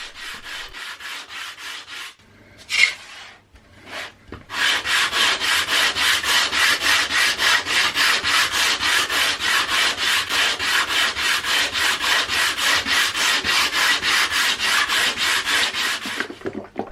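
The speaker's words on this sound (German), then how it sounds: "Zunächst schleife ich alles mit 180er Schleifpapier." Ash hardwood is hand-sanded with 180-grit sandpaper in a long run of even, rhythmic back-and-forth rasping strokes, about two per second, close and loud after a few short scrapes.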